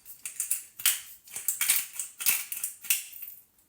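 Salt and black pepper being sprinkled or ground over raw chicken breasts, a series of quiet crackling, gritty bursts in an uneven rhythm, close and faint with no talking.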